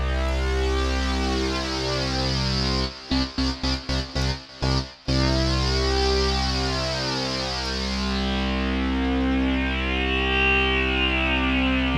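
A GForce Oberheim OB-X software synth plays a dense, buzzy sustained chord with delay and rising filter resonance. A burst of rapid choppy gating cuts in midway, then a resonant sweep swells across the held tone, loud and alone.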